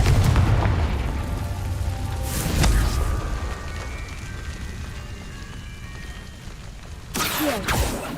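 Confringo fire-spell blasts in the video game Hogwarts Legacy: three heavy, booming explosions, one at the start, one mid-clip and one near the end, each trailing into a crackling, rain-like rumble.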